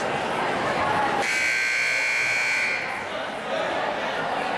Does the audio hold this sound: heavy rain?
no